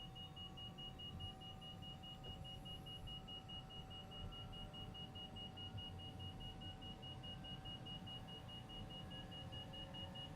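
Bell 407 helicopter turbine engine spinning up during a start in Microsoft Flight Simulator 2020: a steady, dense low rumble with a faint thin whine above it, holding even and unbroken throughout.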